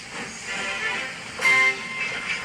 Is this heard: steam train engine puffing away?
yes